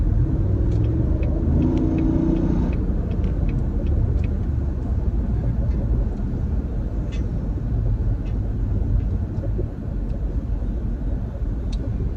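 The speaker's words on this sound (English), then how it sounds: "so the traffic's getting pretty heavy" Heavy road traffic passing close by, a continuous loud low rumble of vehicles with faint scattered clicks above it and no voices.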